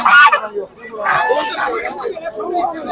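Geese honk and cackle up close amid busy market chatter at the Sabunchu poultry market, with voices mixing in among the birds' calls.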